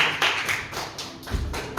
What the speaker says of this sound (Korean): 우리 아버지 하나님께 감사의 박수로 영광 돌리겠습니다.